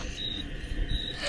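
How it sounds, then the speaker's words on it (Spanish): Crickets keep up a faint, steady high-pitched trill under a low ambient rumble while exploring a stone labyrinth. "¿Escucharon los grillos?"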